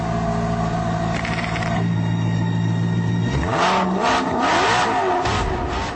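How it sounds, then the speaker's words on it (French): An Alfa Romeo with a 450-horsepower V8 revs with its exhaust in Sport mode, first a steady idle rumble, then a loud rising roar as the engine climbs and surges. "Vous avez même le privilège de changer le bruit de l'échappement en enclenchant le mode"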